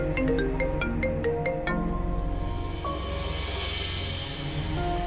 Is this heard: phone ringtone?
yes